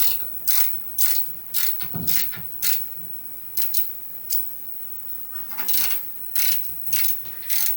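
A ratchet wrench loosens the muffler bolts on a Mighty Mac wood chipper, giving short clicking bursts in an irregular stop-start rhythm, close and fairly crisp against a quiet background.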